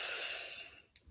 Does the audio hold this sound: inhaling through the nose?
yes